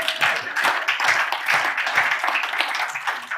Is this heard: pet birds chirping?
no